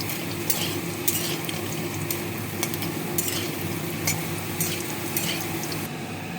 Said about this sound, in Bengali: বড়িগুলো ভাজা হয়ে গেছে, তুলে নিলাম।